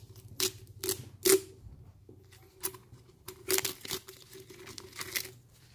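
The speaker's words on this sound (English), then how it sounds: "we're going to peel my activator bottle" Crinkly tearing of a plastic seal being peeled off a slime activator bottle, in several short bursts with quiet gaps, close and crisp, with no talking.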